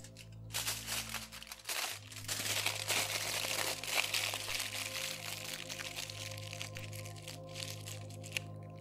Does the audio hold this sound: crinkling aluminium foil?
yes